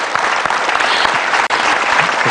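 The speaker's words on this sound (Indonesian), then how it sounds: "Tepuk tangan dulu dong buat Abah Rama." Loud, dense applause fills a studio talk-show audience, a thick wash of clapping hands that holds steady for a couple of seconds, with one brief dip in the middle.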